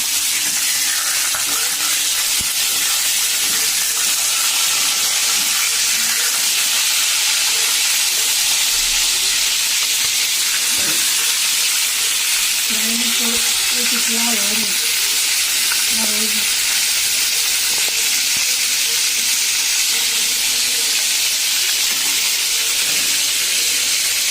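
Chicken pieces fry in a pot over a gas flame, giving a loud, constant hissing sizzle, with a few soft scraping and knocking sounds midway as the meat is flipped over.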